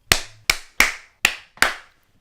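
Five sharp, close hand claps in an even, unhurried rhythm, each ringing briefly before silence, made to sync audio while filming a book channel's behind-the-scenes footage; no talking.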